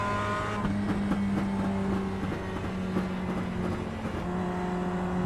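Production race car engine in the iRacing sim on the Daytona 2008 moto course, a steady loud droning whine holding and climbing gently as the car speeds up, continuous throughout.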